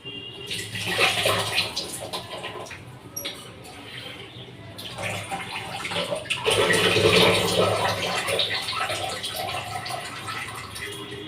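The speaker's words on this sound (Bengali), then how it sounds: "ডালটা আগে ধুয়ে নিই ভালো করে ধুয়ে তারপরে ভাজি" Lentils being rinsed in water in a home kitchen before frying: continuous sloshing and splashing water with swirling, rushing bursts, fairly close and loud, with no talking.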